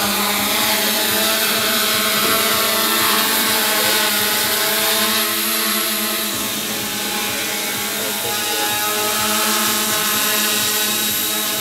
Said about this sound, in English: The motors are fired up.